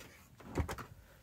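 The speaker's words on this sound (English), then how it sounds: "Make sure you hear the click when you close the door." The freezer door of a Cruise America RV fridge swings shut with a soft thud and a brief latch click, short and fairly faint against quiet background noise.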